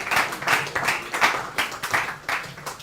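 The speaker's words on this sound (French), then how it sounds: "Est-ce qu'on peut l'applaudir, s'il vous plaît?" Audience clapping for a contestant at a Dolait Show school competition between C.S Nyota and C.S Les Bambins, a steady round of many hands with rhythmic bursts, close and fairly loud.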